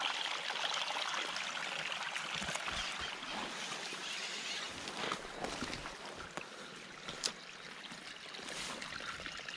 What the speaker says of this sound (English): You can hear the sound of the water just trickling around here.